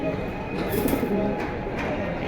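A pigeon coos softly and repeatedly from close by, in a steady low rolling rhythm with no talk over it.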